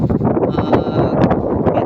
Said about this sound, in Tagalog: napakalakas ng hangin dito sa taas na to